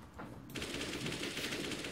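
Rapid automatic gunfire from a Counter-Strike: Global Offensive match, a dense, loud burst of rattling shots that starts abruptly and continues without pause to the end.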